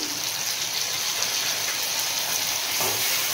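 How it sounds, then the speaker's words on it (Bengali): Fried onion cooked with salt and sugar sizzles in a pan as ginger, garlic and green chilli paste is stirred in, a brief, steady close hiss with light scraping and no voices. "এই সময় আমি বেটে রাখা আদা, রসুন, কাঁচা লঙ্কার পেস্টটা দিয়ে দেব এর মধ্যে।"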